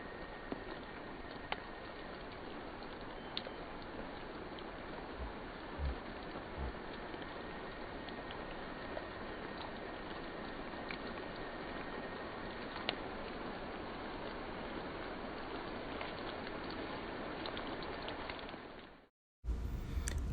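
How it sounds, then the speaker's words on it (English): Steady light rain falls outdoors in the woods, a faint, even hiss with occasional soft drop ticks, cutting out briefly near the end before resuming. "it was starting to rain"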